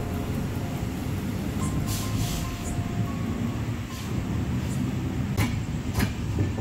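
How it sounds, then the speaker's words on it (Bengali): The Samudra Kanya Express pulls out on its night run from Puri toward Kolkata, a continuous low rumble of rolling stock with scattered sharp clicks and rattles. "আমার ট্রেন কিন্তু এখন ছেড়ে দিল"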